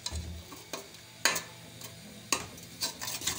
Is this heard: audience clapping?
no